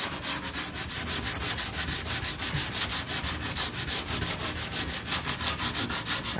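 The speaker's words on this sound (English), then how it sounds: "You get down to that fiberglass really fast." Rapid rhythmic hand sanding of fiberglass on a 1969 Corvette C3 with sandpaper, a gritty scratching swish repeating evenly for several seconds, close up and alone.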